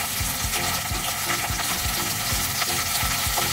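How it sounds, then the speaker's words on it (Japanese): Chicken breast, half-thawed, fries skin side down in a hot pot, sizzling and crackling loudly, a dense continuous frying hiss with small pops, close up and without voices. "鶏肉を皮の面から焼きます"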